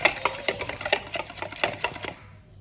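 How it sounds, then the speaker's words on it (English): Wet brownie ingredients, including oil, being whisked by hand in a bowl: quick rhythmic clicking taps of the whisk against the sides, steady and close for about two seconds before fading out, with no talking. "Whisk all wet ingredients with whisker and mix all dry ingredients."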